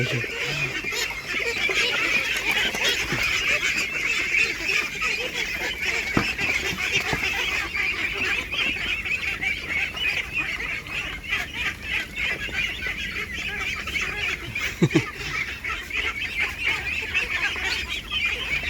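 A flock of forty-five-day-old ducklings eating leaves keeps up a continuous, fairly faint honking chatter over steady outdoor noise, with a few sharper pecks and knocks.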